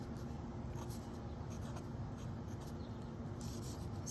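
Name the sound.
fountain pen with broad steel nib writing on paper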